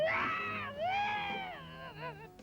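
A cartoon cat from The Smurfs lets out a drawn-out, wavering yowl, close and loud, rising and bending in pitch before breaking into shorter whiny cries.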